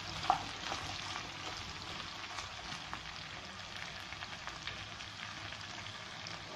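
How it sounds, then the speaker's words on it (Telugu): Okra pieces frying in oil, a quiet, even crackling sizzle with small pops, faint and steady throughout with no voices. "వేసుకొని 1 నిమిషం వీటిని కూడా ఆయిల్లో మగ్గించుకోవాలి"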